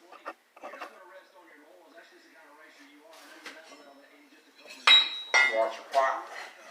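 A cold chisel struck with a hammer against the axle notches of a 1955 Chevy gasser, three sharp ringing metallic clinks in close succession near the end, following a voice talking.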